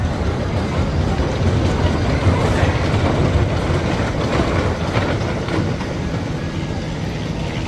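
Roller coaster train running at Six Flags Over Georgia, a loud, continuous rumble with rail clatter, heard close for several seconds and holding fairly steady throughout.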